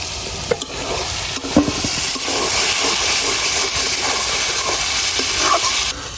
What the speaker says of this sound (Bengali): আমি সিম আর আলুটা আগে একটু ভাজে নিতেছি।